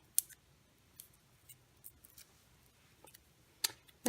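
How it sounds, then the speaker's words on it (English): Scissors snipping a small piece of paper, faint close clicks spaced irregularly in a quiet room. "this time I'm just going to cut just from the edge a small piece and stick that on there."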